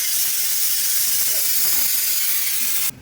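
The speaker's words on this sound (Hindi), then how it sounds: "दाल में तड़का डालने के बाद ये पहली विसल थी" A pressure cooker whistle: a steady, loud hiss of venting steam from cooking dal fills the whole stretch, then cuts off abruptly near the end.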